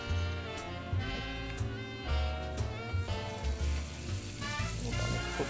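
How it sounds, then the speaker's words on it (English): Loud, steady sizzling of seasoned steaks frying in a hot pan, a continuous crackle with occasional sharper pops. "That's a good sizzle."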